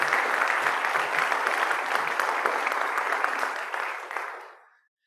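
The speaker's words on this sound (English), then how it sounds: "Please give a generous applause to Ginny today." Church congregation applauding during a Sunday service, a steady dense patter of many hands clapping that holds evenly for about four seconds, then tapers off and stops.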